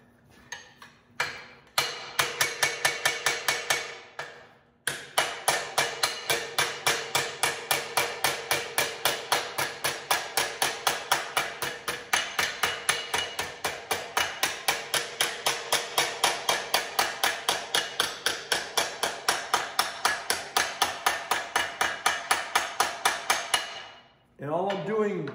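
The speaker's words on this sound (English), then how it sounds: "All I'm doing right now is I'm just planishing smooth, because the shape is pretty much there." Rapid, steady metallic hammer blows ring out as a hammer planishes sheet metal on a dolly, dozens of even taps in a fast rhythm, pausing briefly near the start.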